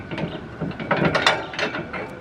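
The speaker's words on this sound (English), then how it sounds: "slide it into the receiver hitch" A metal cargo basket slides into a truck's receiver hitch with a short scraping, clanking metal-on-metal rattle, close and fairly loud, lasting about two seconds.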